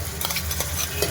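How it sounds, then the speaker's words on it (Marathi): Ginger, garlic and coriander paste stirs in a hot pan for a spicy mutton curry, a close, continuous sizzle with soft scraping strokes and no voices. "चांगलं हलवून घेते"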